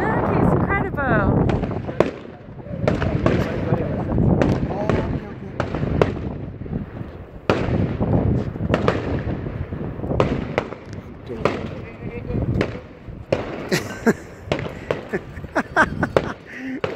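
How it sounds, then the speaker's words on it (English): A fireworks display pops and booms in irregular bursts, some close and sharp, with people talking and exclaiming between the blasts. "you missed the firework display. Look, it's incredible."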